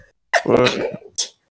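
A single close, sharp sneeze bursts out at a tabletop Dungeons & Dragons game, followed a moment later by a short, breathy afterburst.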